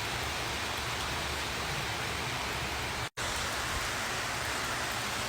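Heavy rain pours down in a dense, constant roar of drops, with a split-second cut in the middle.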